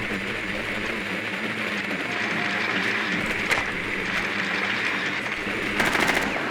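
Bursts of rapid video game gunfire crackle over a steady background hum, with a couple of sharper volleys near the end.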